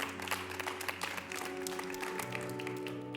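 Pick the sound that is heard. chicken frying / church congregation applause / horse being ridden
church congregation applause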